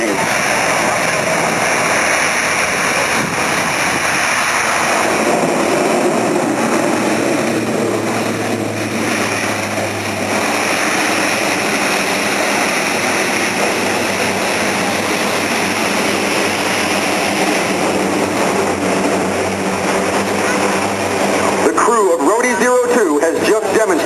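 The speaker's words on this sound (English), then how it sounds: "Has just demonstrated the tactical assault landing capability of the mighty C-130J." A Lockheed C-130J military transport making a maximum-effort short-field assault landing at a National Guard combined arms demonstration, its engines droning loudly and steadily under a public-address announcer's voice, with reverse thrust swelling near the end.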